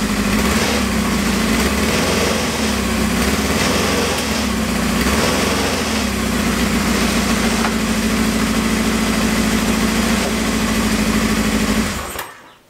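A Kawasaki KZ650 motorcycle engine idles steadily, its carburetor intake joint to the cylinder head leaking air, giving a loud, continuous, slightly uneven burble close up before it cuts off abruptly at the end.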